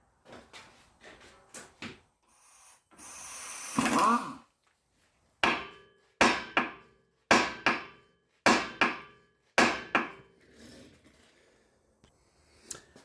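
A car's lower ball joint being hammered loose from a 2003 Honda Element, a run of sharp metallic blows in steady rhythm, close and loud, after some scattered knocks and a scraping, grinding moment.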